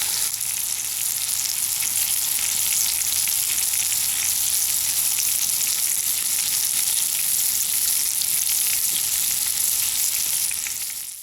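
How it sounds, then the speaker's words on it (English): A beef roast sears in bacon grease in a Dutch oven, giving a loud, dense, unbroken sizzle that holds close and steady for the whole stretch with no talking. "we're going to drop in our roast. Let it get a good sear on it."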